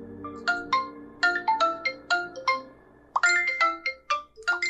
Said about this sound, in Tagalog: biglang tumunog ang kanyang cellphone